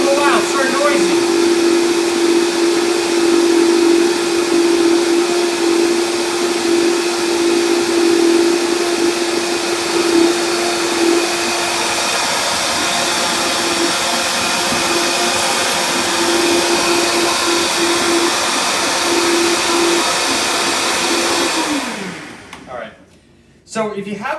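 A blender grinds nuts for nut milk with a loud, steady motor roar and whine that holds for about twenty seconds before cutting off abruptly near the end.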